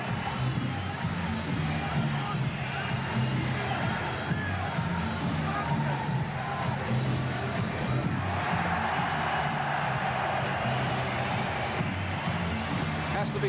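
Boxing crowd in a packed arena at Prince Naseem Hamed's World title fight against Tom Johnson, a steady, dense roar of cheering and babble that holds loud and unbroken throughout.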